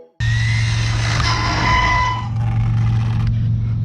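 An Arrma Infraction RC car races by at high speed, a loud, steady high-pitched motor whine with tire squeal rising and fading over a few seconds, heard close and alone.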